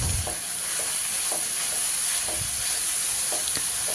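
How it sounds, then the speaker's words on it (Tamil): Grated carrot sautés in a hot pan, half a kilo of it with partly cooked capsicum, giving a steady close sizzle broken by soft, regular scrapes of a stirring spoon about every second, with no voices. "கேரட் ஈஸியாக வந்து அந்த பச்சை வாசனை போகிற வரைக்கும் நல்லா வதக்கி விட்டாலே போதுங்க."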